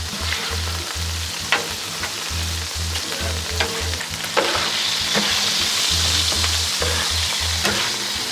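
Chorizo and hamburger meat sizzling steadily on a Blackstone griddle with cheese melting alongside, loud continuous frying hiss broken by scraping stirs of a spatula, no voices.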